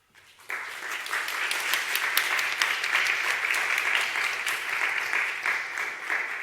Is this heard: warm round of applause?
yes